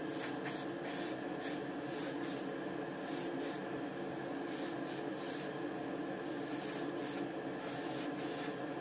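Airbrush spraying grey primer onto a 1:24 Aoshima Nismo Fairlady Z '07 model car body: a steady, close hiss runs the whole time, cut by short repeated pauses and bursts as the trigger is worked, with no talking.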